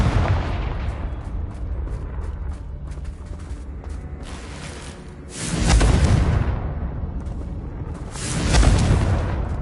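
Confringo blasting-spell explosions in the video game Hogwarts Legacy: two loud, deep booms burst out around the sixth and ninth seconds over a steady rumbling, crackling game soundscape.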